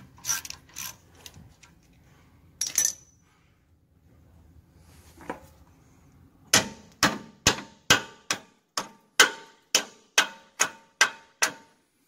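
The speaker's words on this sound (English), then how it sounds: "So I'm tapping this wedge out, and that holds the caliper on to the vehicle." Hammer tapping a wedge bolt out of a school bus hydraulic brake caliper: a few scattered metallic knocks, then a steady run of about a dozen sharp, ringing clanks at even intervals, close and loud.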